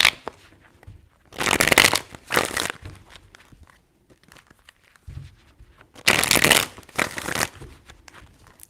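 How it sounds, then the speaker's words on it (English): Tarot cards are shuffled in three bursts: two quick crisp riffles near the start, a long quiet pause, then two more loud riffles, close up with no talking. "3 shuffles."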